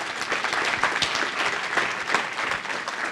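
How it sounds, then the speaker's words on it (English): An audience at a talk breaks into sustained applause, many hands clapping evenly for a few seconds at moderate volume. "Let's give them another big round of applause."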